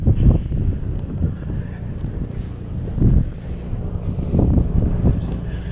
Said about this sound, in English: here goes some gusts of winds here